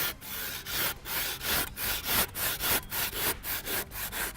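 A standard timber handsaw cuts through an aerated Evocrete Handi block in a quick, steady rhythm of rasping back-and-forth strokes, about two to three a second, close and fairly quiet.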